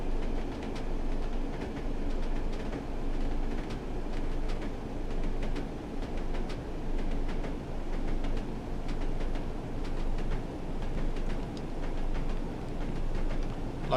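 Class 101 diesel railcar running in Train Sim World 3, a steady loud engine drone with rolling rumble and faint rhythmic clicks throughout, no talk.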